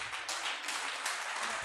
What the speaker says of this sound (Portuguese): aplaudindo a Jesus bem forte